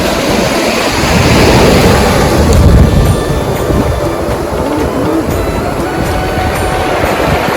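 Sea waves break on a rocky shore near the Harsad Mata temple on the Gujarat coast, a loud continuous roar and wash with heavy wind buffeting the microphone throughout.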